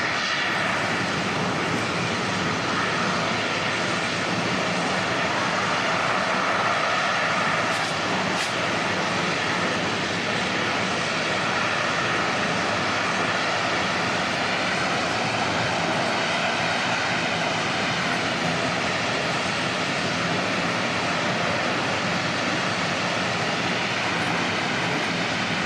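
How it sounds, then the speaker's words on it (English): A Singapore Airlines Boeing 747 freighter moving at Auckland Airport, its engines giving a loud, continuous broadband roar that holds steady for the whole stretch, heard from a distance. "747 movement at Auckland"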